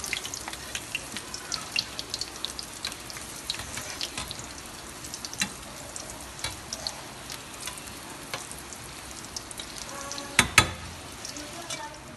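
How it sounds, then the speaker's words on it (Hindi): Crispy potato and beef mince kebabs shallow-fry in a pan with a constant bubbling sizzle, scattered crackles and a couple of sharper clinks near the end. "4 मिनट में हमारे कबाब फ्राई हो जाएंगे और फिर हम इसको पलट देंगे"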